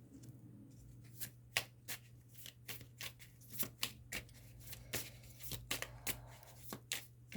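Tarot cards being shuffled and handled, close and quiet, a busy run of crisp slaps, riffles and flicks at an irregular pace over a low steady hum, with no talking.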